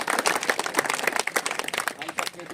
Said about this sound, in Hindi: इनका भी एक बार जोरदार ताली।